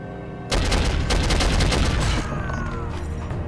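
Dense, rapid automatic gunfire from the 2000 PC shooter Soldier of Fortune starts abruptly and rattles on loud and close, then tails off into ringing echoes and lingering ambience.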